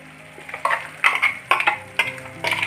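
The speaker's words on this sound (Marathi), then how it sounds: "त्यात आपण हे वाटण टाकणार आहोत" Ground green chili and peanut paste going into cooked bottle gourd and dal in a pan, heard as a run of wet stirring and scraping strokes with spoon knocks against the metal, close and fairly loud.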